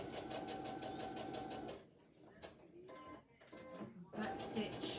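A sewing machine back stitching on a pincushion, running steadily, stopping for a short back-and-forth stretch with light handling noises, then running again, close by. A voice is faintly heard in the gap.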